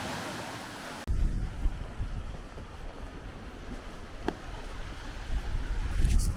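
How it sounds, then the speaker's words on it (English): Gusty wind buffets the microphone out on rocks beside a waterfall, a loud broadband rush that surges abruptly after the first second and stays rough and fluctuating, with rushing water underneath. "I can't video it, it's quite windy."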